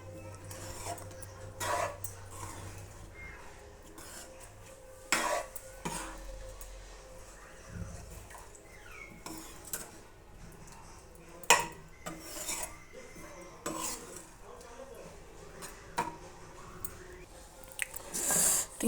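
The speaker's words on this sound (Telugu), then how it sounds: "వేసేసి మసాలాలన్నీ కలిసేలాగా" Cooked toor dal is mixed with spices in a pan for dhaba-style dal tadka: a spoon scrapes and knocks against the metal in irregular strokes, with occasional louder clanks over a soft, wet stirring background.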